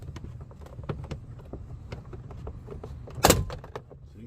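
Plastic retaining clips pop loose as a GM car door panel is pulled away from the door. A series of small clicks and creaks leads to one sharp, loud snap near the end, with no voices.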